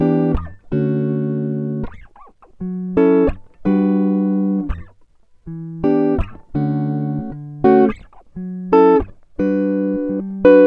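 Clean guitar for a summery indie pop track, strummed as seventh chords in short, evenly spaced bursts with brief gaps between, close and steady with no voices.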